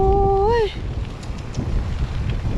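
Wind buffets the microphone during an outdoor bicycle ride, a steady low rumble and rush continuing throughout, with a brief tonal squeal at the start.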